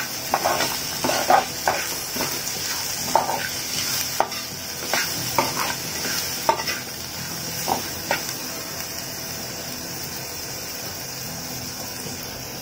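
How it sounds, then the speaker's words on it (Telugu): Spiced ridge gourd and dried prawn curry stirred in a pan with turmeric, chili powder and salt, a steady sizzle and hiss under irregular scraping strokes of a spoon, close and moderately loud, with no talking. "ఇవన్నీ వేసుకున్నాకండి ఒకసారి బాగా కలుపుకోవాలి."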